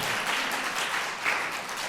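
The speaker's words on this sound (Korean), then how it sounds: "우리 한 박수 해줘요." Steady applause from a church congregation during a revival service marking the church's sixteenth anniversary, a dense wash of many hands clapping together without pause for two seconds.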